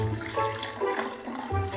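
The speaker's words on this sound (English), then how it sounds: "Okay, put the 2 cups of water in there." Two cups of water pour into a container in a home kitchen, a short, fairly quiet splashing gurgle lasting under two seconds.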